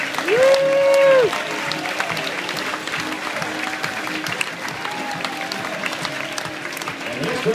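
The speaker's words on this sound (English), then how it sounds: "A round of applause for Executive Chef Rio." Audience applause fills a cruise ship venue after a crew member is introduced, steady dense clapping throughout with a loud whistle near the start and scattered voices mixed in.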